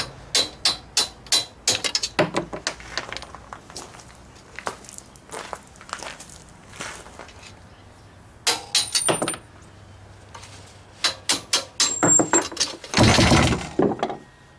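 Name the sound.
knocking shock bolts out of go kart frame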